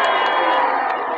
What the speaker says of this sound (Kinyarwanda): tuzamura amashyi menshi aho bari tuzamura akaruru kenshi